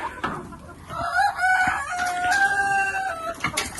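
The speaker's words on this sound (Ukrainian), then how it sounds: "сусідський петушок співає" A rooster crows once, a long wavering cock-a-doodle-doo at moderate distance, with faint clucking and farmyard noise around it.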